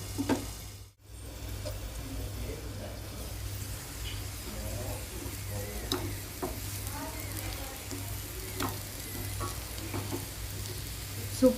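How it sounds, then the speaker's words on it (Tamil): Beetroot masala fries slowly in a pan over a low flame, a continuous soft sizzle with occasional light stirring scrapes and a low background hum, close by and without speech. "சூப்பராக இப்போ ஃப்ரை ஆகிட்டுருக்கு பாருங்கள்."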